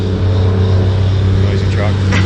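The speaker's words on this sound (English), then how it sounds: "Noisy truck." A noisy truck passes on Route 66 between St. Louis and Lebanon with a loud, close, heavy engine rumble and drone that hold steady, with a brief rising whine near the end.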